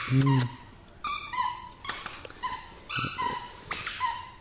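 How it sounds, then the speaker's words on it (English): Dachshunds making a series of short yips and whimpers up close, in several separate bursts across the clip. "these are their wiener dogs"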